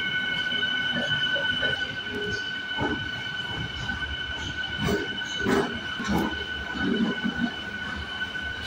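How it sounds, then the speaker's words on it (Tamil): A passenger train from Bangalore toward Hosur rolls steadily along the rails with a constant rumble and a high metallic whine, with occasional clatter and faint voices in the background. "நம்ம ட்ரெயின் இப்போ கேஎஸ்ஆர் பெங்களூர்லேருந்து டிபார்ட் ஆகிடுச்சு டுவர்ஸ் தருமபுரிக்கு."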